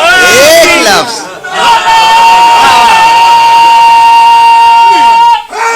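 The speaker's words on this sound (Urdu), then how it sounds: "وہی جو آپ نعرے لگاتے ہیں" Crowd at a Shia majlis mourning gathering raising slogans in unison, loud massed voices swelling and holding long sustained cries, with brief dips between shouts.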